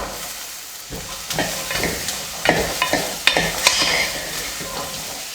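Boiled peanuts with onions and curry leaves sauté in oil, giving a continuous sizzle punctuated by several sharp spatula scrapes and clinks against the pan, close and fairly loud.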